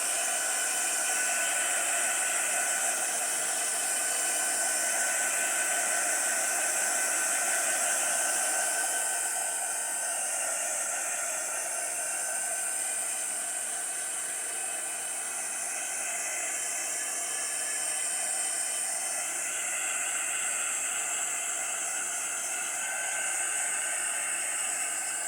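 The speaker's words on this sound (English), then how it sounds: "let me get my heat gun" A heat gun blows steadily for about 25 seconds, a loud, even rushing hiss drying a fresh coat of paint, with no talking over it.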